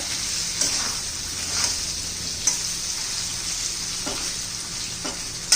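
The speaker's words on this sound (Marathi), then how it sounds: "आता मी दोन तीन मिनटं मी परतून घेते" Raw banana pieces sauté in hot oil in a pan, giving a steady close sizzle and crackle with a few light stirring clicks, and no voices.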